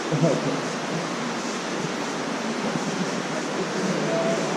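Steady rushing water flows continuously through an underground stream in Tuckaleechee Caverns, a broad hiss and gurgle nearby, with faint voices underneath.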